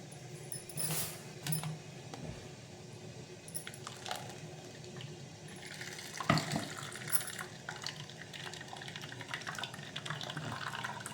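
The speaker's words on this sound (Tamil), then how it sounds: "இது தேங்காய் பால் வடிகட்டுறேன்" Freshly ground coconut milk being strained by hand in a kitchen, giving a soft continuous trickle and splash of liquid with occasional light clinks, fairly quiet and steady throughout.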